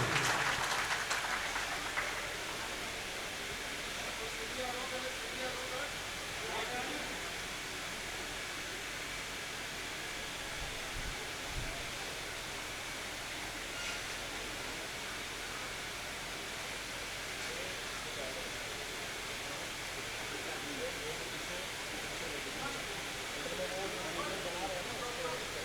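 Steady audience applause at a NEET UG felicitation ceremony, a dense hissing wash of clapping holding at a fairly even level for the whole stretch, strongest at the very start.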